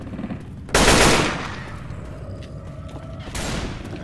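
Loud gunfire in the Left 4 Dead 2 video game, a sharp burst of rapid shots up close that fades into a rumbling echo, then a second burst near the end.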